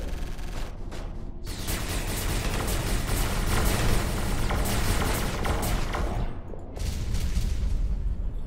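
Starsector space combat with missiles launching and flares, a dense, continuous volley of rapid-fire bursts and booms, loud and sustained, with a brief lull before the barrage resumes.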